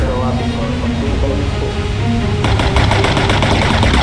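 Heavy machine-gun fire in the bomber video game Bomber Crew, dense rapid bursts rattling continuously and growing louder and sharper partway through.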